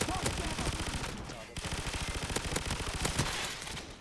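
Dual Akimbo 74U submachine guns fire in Call of Duty, a dense rapid stream of close gunshots that breaks off briefly and then resumes, nearly continuous throughout.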